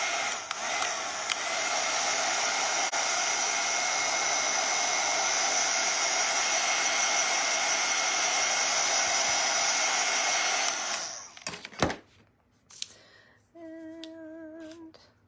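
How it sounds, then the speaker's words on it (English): A hair dryer blows steadily on craft paper for about eleven seconds and then cuts off, leaving a few faint clicks and brief tones. "I hate to turn the dryer on, you guys. I'm gonna dry it just a smidge."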